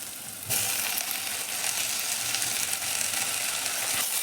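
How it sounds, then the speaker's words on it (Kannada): Tomato tipped into browned, sizzling masala in a pan for egg sambar, a sudden loud burst of frying at the start that settles into steady close hissing with faint stirring scrapes, no voices. "ಇವಾಗ ಟೊಮೆಟೊ ಆ್ಯಡ್ ಮಾಡ್ಕೊಳ್ಳೋಣ"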